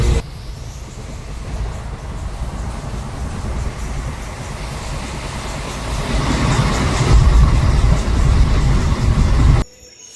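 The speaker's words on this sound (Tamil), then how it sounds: "மலபார் எக்ஸ்பிரஸ்" Inside a sleeper class coach of the Malabar Express, the train rumbles loudly and steadily with rattling carriage noise that swells toward the end and then cuts off abruptly.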